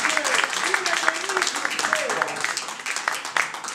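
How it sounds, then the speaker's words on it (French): Audience applause at a press conference for a Congolese music star, continuous clapping from a crowd with voices and cheers mixed over it, lively and close. "Encore un tonnerre d'applaudissements pour le roi de la France."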